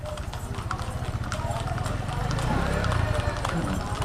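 Rapid, rhythmic hoofbeats of a horse galloping on a hard surface during a provincial horse race in Tayabas, Quezon, steady and fairly close, with a clattering clip-clop over background noise.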